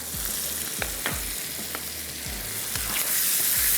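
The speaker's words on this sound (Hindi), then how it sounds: "थोड़ा सा भूनते हैं" Tomatoes sautéing in a pan, a dense, loud sizzle with a few short knocks of stirring spread through the few seconds, no voices.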